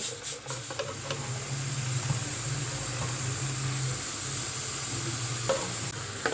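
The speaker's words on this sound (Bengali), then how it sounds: "জিরে গুঁড়ো দিচ্ছি গরম মশলা গুঁড়ো দিচ্ছি স্বাদ মতো নুন দিচ্ছি দই দিচ্ছি" Ground spices, salt and yogurt cooking in a pan over low heat, a soft continuous sizzle and hiss with a few stirring scrapes, close and steady, no talking.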